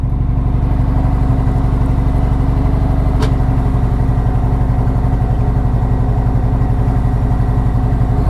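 A 2020 Harley-Davidson Electra Glide idles just after starting, a loud, close, steady low rumble with a fast even pulse that runs unbroken throughout.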